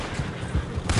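Gunfire in Red Dead Redemption 2, a few loud close shots in quick succession with a rough burst near the end, no talk.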